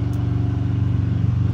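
A Kenworth truck engine idles close by with a steady, low throbbing rumble that holds even and continuous throughout, no voices over it.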